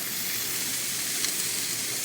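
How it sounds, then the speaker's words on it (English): Oiled grill grates sizzle as they heat on high on a gas grill, a continuous hissing crackle with a small pop midway, close and steady, no talk. "I can hear that sizzle already"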